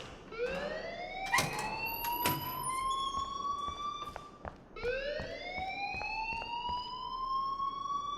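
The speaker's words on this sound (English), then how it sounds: "please turn off that alarm since that's your job" Fire alarm ringing in the video game Life is Strange: two rising electronic siren sweeps, each climbing steadily then restarting, with a few brief clicks and thumps around the first one.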